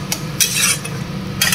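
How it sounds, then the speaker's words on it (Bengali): Salt, sugar and turmeric are stirred in a pan over the flame, a spoon scraping and clinking against the metal in a few short bursts over a low steady hiss. "এবার আঁচটাকে ফুলে রেখে বেশ অনেকক্ষণ নাড়তে হবে"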